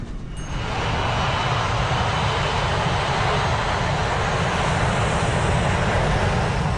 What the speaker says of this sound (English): flight 243 is ready for takeoff